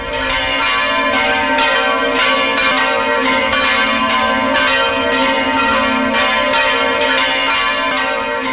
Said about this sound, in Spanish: la canonización de San Charbel, las campanas tocaban en todas las ciudades y pueblos del Líbano.